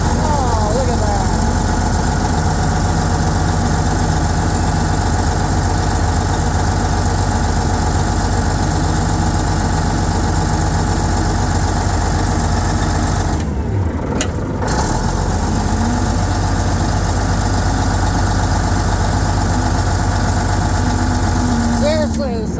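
Old bulldozer engine idling just after starting, a steady loud low rumble running throughout with a brief dip near the middle, while people talk over it.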